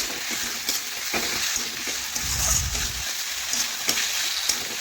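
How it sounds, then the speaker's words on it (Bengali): Potatoes cooking with spices in a pan, stirred, for a Bengali fish head recipe, a steady sizzle broken by scraping stirs and a louder low rumble of stirring midway, no talk. "এখন ভালোভাবে আলু আবারও মশলার সাথে একটু রান্না করে নিচ্ছি"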